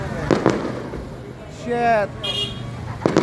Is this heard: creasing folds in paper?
no